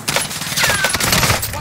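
Rapid bursts of automatic gunfire in the video game Call of Duty Warzone, loud and close, with voices talking over the shots.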